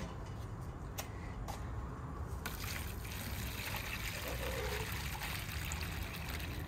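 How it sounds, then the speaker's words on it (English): Water trickles and pours steadily into a container on a garden shelf, a continuous soft dribbling heard close by with a few light clicks near the start. "all I have to do is fill this up with water"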